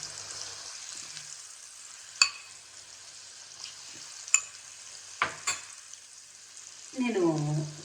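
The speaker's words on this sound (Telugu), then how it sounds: "ఇదిగోండి ఈ ఆవాలు వేగుతున్నాయి." Mustard seeds and masala paste frying in hot oil for a homemade chicken pickle, a steady close sizzle broken by sharp crackles and pops, then a louder burst of spattering at the end.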